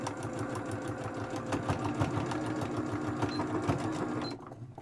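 A sewing machine stitching small art journals runs in a fast, even mechanical chatter of clonks and clanks from a worn needle, close and steady before cutting off abruptly near the end.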